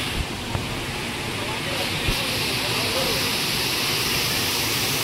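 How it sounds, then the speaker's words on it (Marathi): Savdav waterfall pours as a steady, broad rush of white water, a constant hiss and roar that fills the whole stretch without pause, with a couple of faint knocks near the recorder. "असा सावडा धबधबो"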